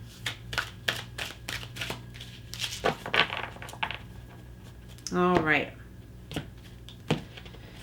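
Tarot and oracle cards are shuffled close by in a series of quick riffling bursts with soft taps between, and a longer flutter near the end, while a voice speaks briefly.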